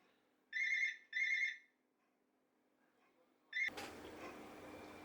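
A smartphone's electronic ringtone trills in two short bursts, then a third starts and is cut off by handling noise and rustling.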